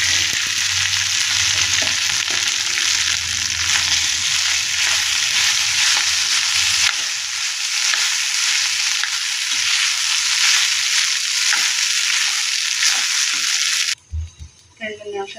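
Idli upma frying in a pan gives a dense, continuous sizzle with stirring scrapes throughout, close and loud, before cutting off abruptly near the end.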